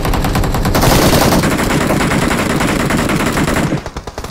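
Rapid automatic gunfire from a shooter video game, loud and dense, with sustained bursts that run almost continuously before thinning into a few scattered shots at the end.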